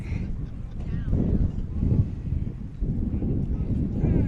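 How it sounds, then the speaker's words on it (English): Wind gusts buffet the microphone at a high school baseball field, a steady low roaring rumble that swells and dips in strong gusts, with faint background sounds. "Wind really gusting straight out of center field now."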